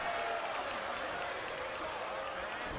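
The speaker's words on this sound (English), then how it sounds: "The crowd gets hype." Crowd cheering from the WWE 2K22 wrestling video game in universe mode, a steady dense roar of arena noise with faint clapping texture, sustained at even loudness throughout.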